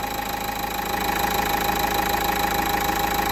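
A Dacia Duster engine idling with its engine warning light on and a suspected faulty injector, a steady close mechanical hum with a fine rapid ticking rhythm running evenly throughout.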